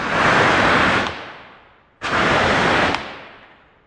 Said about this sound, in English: here's an example of us shooting off the ColorStorm